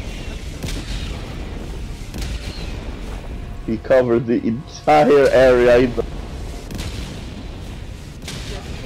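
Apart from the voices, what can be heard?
explosions in a video game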